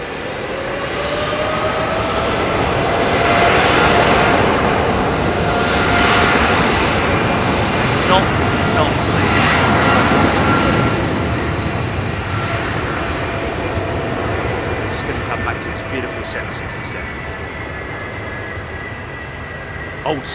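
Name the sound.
old Pratt & Whitney aircraft jet engine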